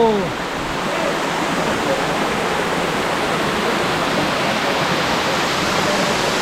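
A tall waterfall in remote Rangamati, Bangladesh, roars as a loud, dense, unbroken rush of falling water that fills the whole scene from close by.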